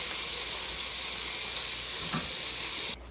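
Ribs frying in a skillet give a steady, loud sizzle with a constant hiss of oil that runs unbroken for a few seconds before easing off abruptly near the end.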